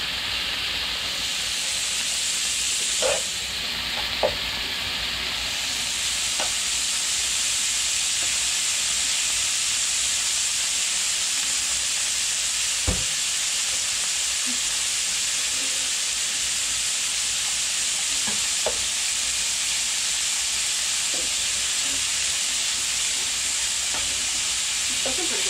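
Steady sizzling of cheesesteak meat on a hot griddle, a constant bright hiss with occasional faint pops and clicks, close and continuous throughout.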